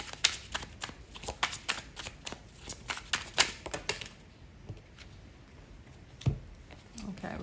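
Tarot deck shuffled for a reading, a quick series of crisp riffling card snaps in bursts, close and fairly loud, then a few softer card taps as the spread is laid out.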